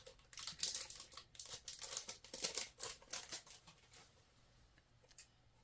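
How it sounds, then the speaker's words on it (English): Foil trading card packs for the Hitchhiker's Guide to the Galaxy being torn open, close crinkling and ripping in quick uneven bursts that fade toward the end. "I'm gonna struggle opening up these packs."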